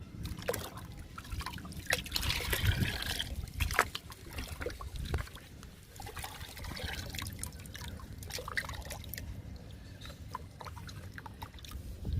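Banana peel liquid fertilizer is poured and stirred into water, giving irregular sloshing, trickling and splashing close by, loudest early and then settling into softer swirls.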